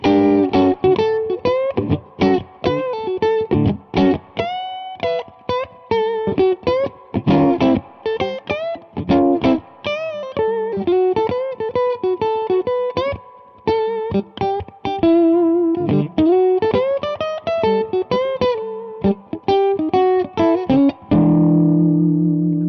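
A distorted electric guitar plays a bluesy solo of quick bent notes and short phrases using major and minor pentatonic scales, loud and close, ending on a sustained chord.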